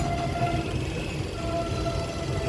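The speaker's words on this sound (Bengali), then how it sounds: "সুপ্রাকান্দি এলাকাতে এসেছে ট্রেন," A VIP train rolls into Suprakandi with a steady, low rumble of wheels and carriage noise, heard from onboard as a constant drone with faint tonal hums.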